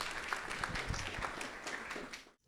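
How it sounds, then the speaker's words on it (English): Film festival audience applauding, a dense steady patter of many hands at moderate distance that carries on for about two seconds before cutting off abruptly. "Round of applause for all these amazing contributors."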